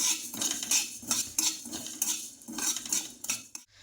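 Greens and cumin seeds roasting dry in a pan for moong dal kachori chutney, with repeated metal-on-pan scraping and stirring clatter in an irregular rhythm, close and moderately loud, no talking.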